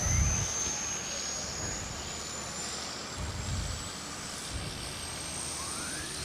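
A supercharged Hemi-powered pulling tractor roars steadily under load at a county fair tractor pull, a loud continuous engine drone with surging low rumbles throughout.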